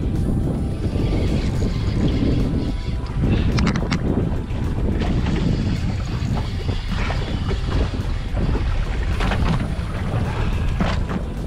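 Wind blows hard across a bay during a fishing trip, a constant loud roar buffeting the microphone, with faint water and boat movement beneath and no clear talking.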